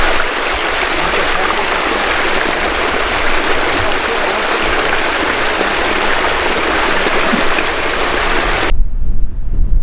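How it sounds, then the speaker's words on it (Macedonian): Water rushes loudly and continuously out through the main release valve of the Lipa dam, a dense roaring hiss close by that cuts off abruptly near the end. "Тука е главниот вентил кој се пушта вода за налетите да нема."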